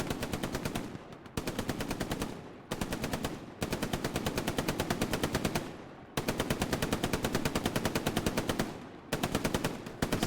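Machine gun in the video game Hell Let Loose, fired from a rooftop down a road, loud and close in six long rapid-fire bursts separated by brief gaps.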